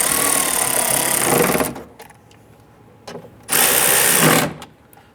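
A power tool drives and snugs down the bolts holding a front power window motor and regulator in the door of a 2005-2010 Chrysler 300, in two loud buzzing bursts separated by a quieter pause with faint clicks.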